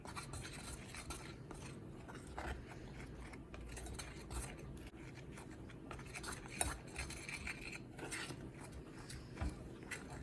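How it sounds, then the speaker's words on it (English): Hair conditioner and cornstarch cloud dough is mixed in a bowl, making a soft, continuous crunchy squishing and scraping with small clicks, quiet and close, with no talking. "So now we're going to start mixing."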